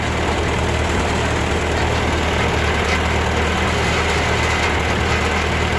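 A Ford 8N tractor engine runs at a steady idle close by, a continuous loud, low rumbling drone with rattling vibration and no pauses.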